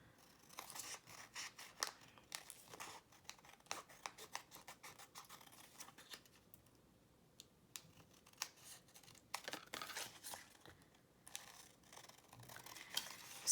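Scissors trimming coffee-dyed, aged journal paper make quiet, close snips and crisp cuts at an irregular pace throughout.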